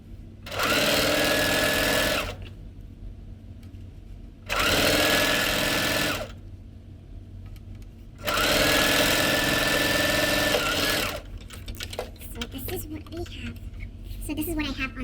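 Sewing machine stitching a folded kitchen towel in three loud runs of a couple of seconds each, with quieter gaps where fabric is handled and a voice talks in the background.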